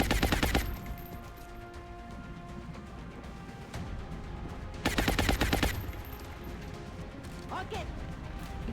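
Bursts of automatic gunfire from a squad battle in the XCOM Long War video game, two loud rattling volleys about four seconds apart, with quieter game sounds and some talk between them.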